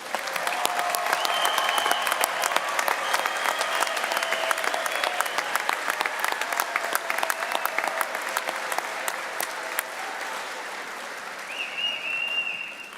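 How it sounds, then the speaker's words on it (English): A commencement audience honors graduates with a sustained round of applause, dense clapping from a large crowd that stays steady for most of the stretch before thinning toward the end. "Let's give our graduates one more round of applause."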